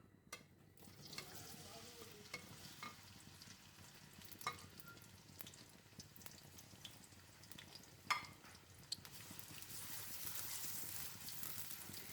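Onions sizzle and crackle in hot mustard oil, a steady frying hiss with occasional sharper pops and spatters, fairly quiet and with no voices.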